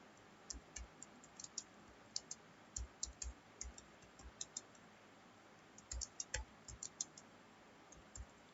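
Typing an HTML program on a computer keyboard: quiet, close key clicks in uneven bursts with short pauses, each tap sharp and distinct against a faint background hiss.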